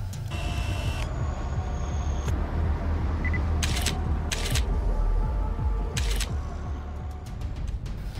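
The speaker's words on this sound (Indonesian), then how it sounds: "dari kejauhan, Brian mulai memotret kegiatan para anggota" A camera shutter fires a few separate, crisp clicks over a steady, low, rumbling background in an action film scene where photos are taken from a distance.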